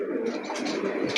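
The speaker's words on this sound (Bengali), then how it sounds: "এই দেখেন কবুতর" Pigeons coo at a pigeon shop, with steady overlapping low cooing from several birds close by and no talk.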